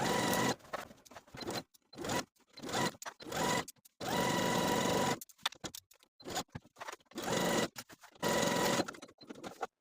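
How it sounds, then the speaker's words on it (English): A sewing machine edge stitches the bottom hem of a wrap top near the inner fold, its rapid whirring needle running in short bursts with brief pauses between them, close and clear with no talking. "we're going to pivot our stitching and edge stitch the bottom hem close to the inner fold all the way across"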